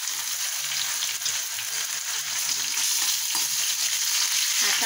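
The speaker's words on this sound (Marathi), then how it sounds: "चांगला परतून घ्यायचा।" Coarsely crushed garlic, curry leaves and coriander fry in hot oil for a gavar bhaji, giving a continuous, close, bright sizzle that stays loud and even, with faint stirring underneath.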